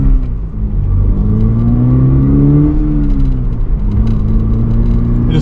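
Close and loud, a 2024 Toyota GR86 engine revs with a six-speed manual, rising and falling across several smooth gear shifts, pitch climbing then dropping back under a constant rumble, with no voices.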